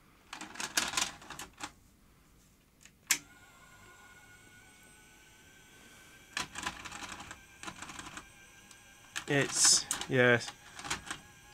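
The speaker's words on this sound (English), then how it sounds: "Let's just see what happens if I try to put tape in." A Grundig 2x4 Super V2000 video recorder with a slipping drive belt loads a tape, giving intermittent mechanical clicks, whirs and clunks up close, with a brief spoken word.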